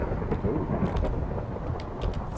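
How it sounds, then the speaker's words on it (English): Thunder rumbles in Minecraft, a low rolling boom lasting a couple of seconds with faint crackles over it, moderately loud. "Oh. Thunder."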